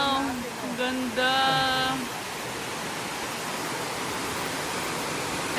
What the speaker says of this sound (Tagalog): Ito yung falls number 2.